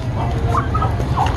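A male turkey gobbles and clucks close by in short bursts beside a female, over a steady low background rumble.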